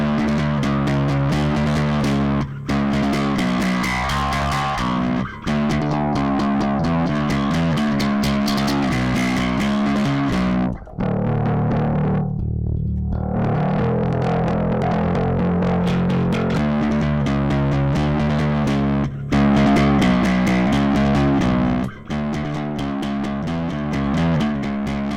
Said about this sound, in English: that's when the drive kicks in